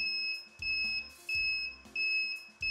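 An Arduino ultrasonic intrusion alarm beeps in short bursts of steady high electronic tone, four pulses in quick succession with soft clicking between them, fairly quiet and close.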